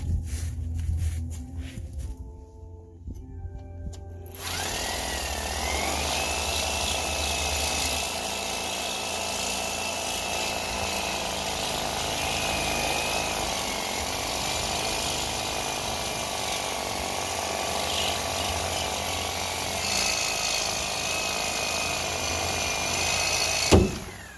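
A power tool whines steadily while cutting a part underneath an old Ford Bronco during axle removal. A loud, continuous grinding drone holds for about twenty seconds after some brief rattling at the start.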